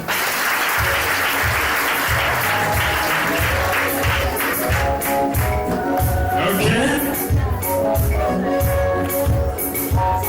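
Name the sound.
applause at a civil wedding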